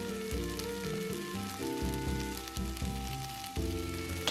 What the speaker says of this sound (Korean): 햄도 넣고 볶아줍니다